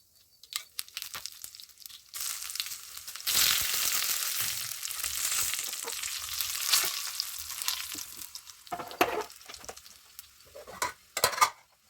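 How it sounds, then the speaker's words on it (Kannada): Spices and curry leaves crackle and sizzle in hot tempering oil, a steady frying hiss with sharp pops and spatters, close by and continuous for several seconds. "ಇಷ್ಟು ಹಾಕ್ಕೊಂಡ್ರೆ ಒಗ್ಗರಣೆ ಕೂಡ ಆಗುತ್ತೆ."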